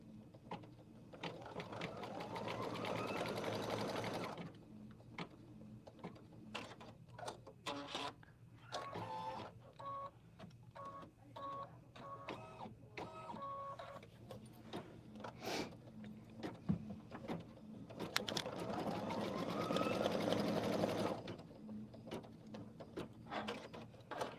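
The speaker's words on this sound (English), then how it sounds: "we're going to basically repeat that straight line stitch that's going to put those in position" An embroidery sewing machine runs a straight line stitch placing applique pieces on a quilt block, with two sustained bursts of rapid whirring stitching separated by a stretch of intermittent clicking and mechanical movement, close and without talk.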